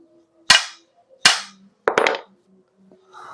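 Honda Beat scooter starter being struck hard, heard as three sharp, loud metallic knocks spaced about a second apart, each with a quick decaying ring, the last a double hit, followed by a faint rustle.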